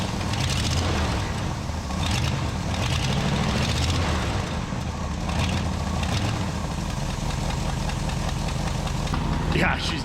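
A 1975 Ford F250 4x4 Highboy idles with an exhaust leak at the back of the manifold near a snapped bolt, giving a steady, rough, close-up rumble that runs unbroken throughout, with a brief sharper sound near the end.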